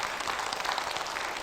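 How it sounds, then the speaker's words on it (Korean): Brief, soft applause from a seated audience at a marketing seminar, scattered clapping heard at a moderate distance for a moment. "박수 한번 보내주시죠."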